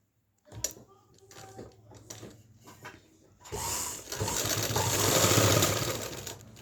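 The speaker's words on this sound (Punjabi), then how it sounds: "ਕੱਪੜੇ ਨੂੰ ਉਸੇ ਹਿਸਾਬ ਦੇ ਨਾਲ ਸੈੱਟ ਕਰਕੇ ਸਲਾਈ ਲਗਾ ਲੈਣੀ ਹੈ" A sewing machine stitches a salwar cuff backed with buckram: a few scattered clicks and short bursts of handling come first, then a steady, loud run of rapid stitching takes over.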